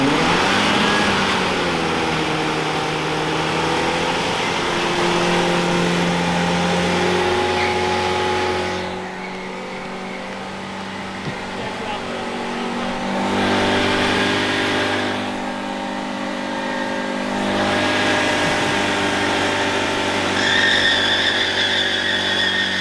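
A Volvo drift car does a burnout, its engine revving hard and holding high, droning revs with tire squeal, easing off twice before climbing again, loud and close throughout.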